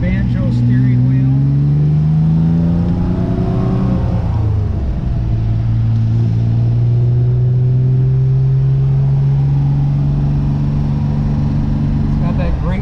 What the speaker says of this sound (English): It's got that great sound from that factory inline six-cylinder.